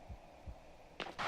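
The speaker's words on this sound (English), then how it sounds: "I really want to stop hearing my heartbeat in my ear" Heartbeat in the horror video game Medusa's Labyrinth: slow, low double thumps repeat under a steady hum, followed by a couple of brighter, louder noise bursts near the end.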